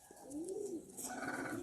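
A pigeon being handled by its keeper gives a soft, rising-and-falling coo, fairly close, over steady background noise, with no speech.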